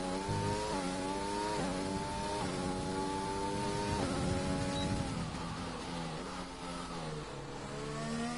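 Mercedes race car engine in a racing video game on a Hungary circuit, revving loudly through gear changes with rising pitch sweeps and repeated upshifts, steady and close throughout the lap.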